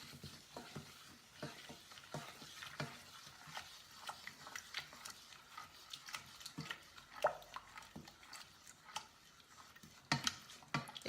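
Modelling dough mixture stirred in a bowl after water is added, a faint, steady run of soft wet scrapes and ticks from the utensil against the bowl, with no talking.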